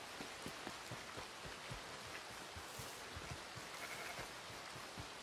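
Steady rain pattering in a video game, a dense, even hiss with scattered drop ticks, faint and continuous with no voices over it.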